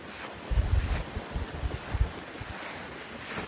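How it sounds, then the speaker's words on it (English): Gusty wind buffets the microphone during outdoor shingle repair work, producing uneven low rumbling bursts over a steady outdoor hiss. "as you can tell, it's pretty windy out here"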